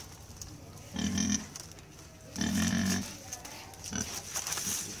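A captured wild boar in Vietnam grunts and squeals in several short bursts, fairly close, over a quiet background with faint distant voices.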